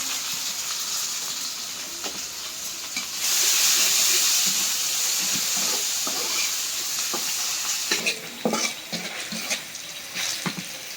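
Onions dropped into hot oil with garlic and black cumin, a dense hissing sizzle that surges louder for a few seconds, then settles under intermittent stirring scrapes, close and without speech.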